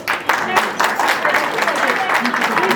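Family members at a gathering clap together in a burst of applause, close and fairly loud, with voices mixed in throughout the short stretch.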